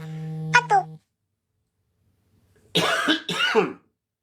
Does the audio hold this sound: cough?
yes